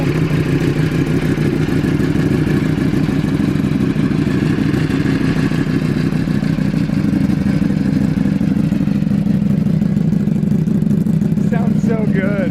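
2023 Ducati Panigale V4 fitted with a clear clutch cover, idling loud and close with a steady, throbbing rumble and a dry clutch rattle running throughout, no talking.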